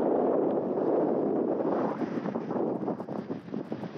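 Strong wind roars and buffets against the microphone in a continuous low rumble, gusting unevenly toward the end.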